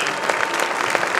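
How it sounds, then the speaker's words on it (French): Dense, steady applause from a crowd at a show-jumping event, honoring a rider and his horse, with continuous clapping and no pauses. "Vous saluez Olivier Guillon, renouvelez l'applaudissement"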